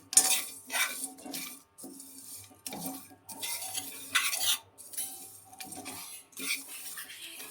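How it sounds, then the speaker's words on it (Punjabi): Whole chai masala spices are stirred dry in a frying pan on a gas stove, with quiet irregular scraping and rattling strokes, small clinks of metal and faint sizzling, separated by brief pauses. "ਆਨ ਉੱਪਰ ਰੱਖ ਲਿਆ ਫਰਾਈ ਪੈਨ ਤੇ ਸਾਰੇ ਜਿਹੜੇ ਮਸਾਲੇ ਨੇ ਇਹਦੇ ਵਿੱਚ ਪਾ ਦਿੱਤੇ"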